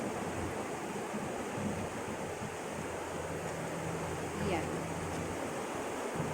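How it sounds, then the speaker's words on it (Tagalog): Flowing river water rushes as a steady, broad wash outdoors, close and continuous, with faint wind and a few distant voices in the background. "Pakinggan niyo ang tunog ng tubig."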